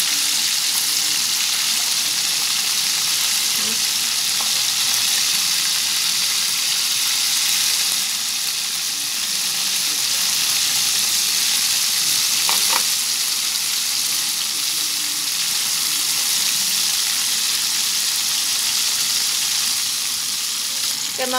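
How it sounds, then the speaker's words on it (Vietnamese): Tofu skin deep-fries in a pan of hot oil, giving a loud, continuous hiss and crackle that stays even across the whole stretch, close up, with a few faint clinks and no voices. "Cái món tàu hũ kia mình chiên giòn này"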